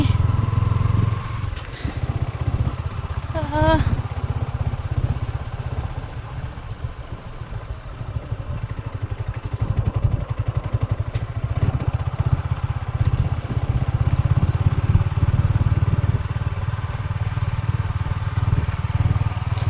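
A low motor scooter engine drones steadily close by for the whole stretch, with a brief rising whine and occasional clatter over the rumble.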